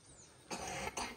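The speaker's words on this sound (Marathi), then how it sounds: "तुझं झाला खोकला बरा?" Two short, harsh coughs from a person, close and fairly quiet, the second following about half a second after the first.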